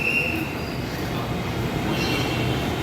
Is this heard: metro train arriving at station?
yes